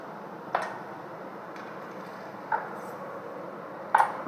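Partly melted ice cubes dropped one at a time into a glass of cold mint drink, giving a few sharp clinks spaced about a second or two apart, with a quick double clink at the end. No talking, just a soft background hum.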